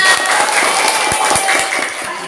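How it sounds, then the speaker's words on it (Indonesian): Schoolchildren clap together in a classroom, a brief scattered round of hand claps under a bright, hissy room ambience, moderately loud and close, fading slightly toward the end. "Tepuk tangan dulu anak-anak."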